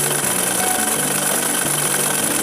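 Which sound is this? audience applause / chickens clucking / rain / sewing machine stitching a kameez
sewing machine stitching a kameez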